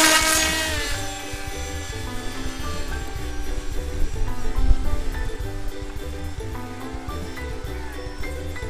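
A pusher-prop Raiden model plane flies in strong wind, its motor giving a steady, droning buzz with a clear pitched whine that holds throughout, over windy outdoor rumble.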